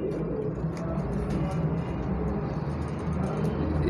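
A female purebred pigeon coos softly and steadily in close range, its low murmuring mixed with a constant background rumble that sounds like traffic.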